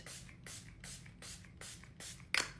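Milani Make It Last setting spray misted from a pump bottle: a series of short, soft hissing bursts at a steady rhythm, faint and close, ending with a slightly louder spritz.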